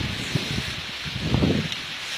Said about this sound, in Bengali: কি যে অস্থির বাতাস।